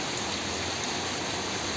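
Steady rain falls at a chicken farm in the rainy season, a dense, even hiss of drops with no pauses or voices.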